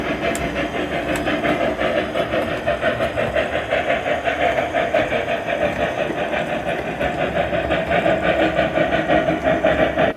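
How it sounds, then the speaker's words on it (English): Steady, rhythmic chuffing from an O gauge model steam locomotive's sound decoder, hissing and breathy, each puff slightly irregular in spacing, continuous and fairly loud with no talking. "this sounds much more like a real steam engine"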